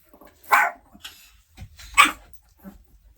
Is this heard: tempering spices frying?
no